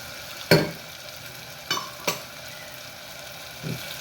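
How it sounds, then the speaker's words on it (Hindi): Garam masala, turmeric, chili powder and coriander powder stirred and fried in a pan for gravy, heard as a few distinct spatula scrapes and taps over a soft, steady sizzle. "अच्छे से हमें इस तरह से मिला लेंगे, मिक्स कर लेंगे इस तरह से थोड़ा सा, और 1 मिनट इसे हमें ऐसे ही भून लेंगे"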